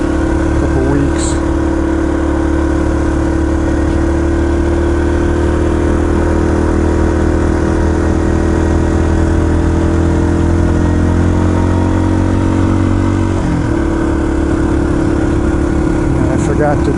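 A Yamaha TT-R230 dirt bike engine idles in a parking lot at Windrock Park, with a steady, even drone that shifts slightly in pitch near the end, continuous and close throughout.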